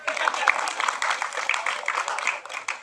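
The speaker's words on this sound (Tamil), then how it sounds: "தயவு செஞ்சு நீங்களே ஒரு தடவை கைத்தட்டிடுங்க" An audience claps and applauds at a Tamil film audio launch event, a dense continuous patter of many hands with voices mixed in throughout.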